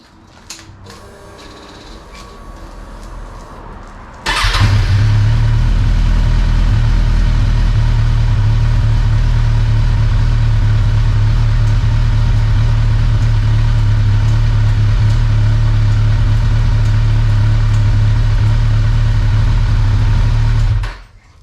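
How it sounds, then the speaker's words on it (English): A Kawasaki Z1000SX motorcycle engine starts abruptly after a few seconds of quieter background, then settles into a steady, loud, low idle that runs unbroken until it cuts off near the end. "Then when I start the bike up, both lights should come on"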